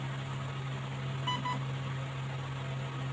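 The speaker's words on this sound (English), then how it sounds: "the motor turn click and then a couple of beeps after" A CYMA SR25 airsoft gun gives two short, quiet electronic beeps close together over a steady low hum, with a faint motor click just before them.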